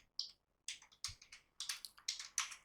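Typing on a computer keyboard, with crisp clicky key presses in short irregular bursts of a few strokes each, close and distinct against near silence, without any speech.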